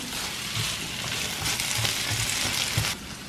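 Onions fry in a hot pan with a steady, hissing sizzle and a few soft stirring bumps, close and even throughout, with no voices.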